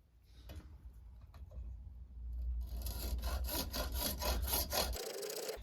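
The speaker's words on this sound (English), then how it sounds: "now we're going to cut it with the hacksaw again" A hacksaw cuts through a medieval crossbow roller nut, starting with scattered scrapes and then settling into a steady, close rhythm of quick rasping strokes.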